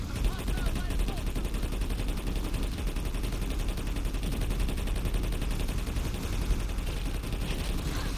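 Rapid automatic gunfire from a weapon in the video game Planetside 2, a dense, unbroken stream of shots that stays loud and steady throughout.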